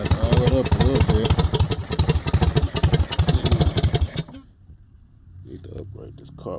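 A mini bike's small engine idles with a rapid, loud chugging beat during carburetor repair, then cuts out abruptly, leaving only faint clatter and quiet talk.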